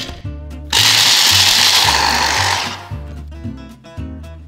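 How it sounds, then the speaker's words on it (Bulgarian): An electric kitchen chopper grinds pistachios in a loud whirring burst of about two seconds, with a steady low mechanical hum running before and after it. "За шамфастък вземем един чопер."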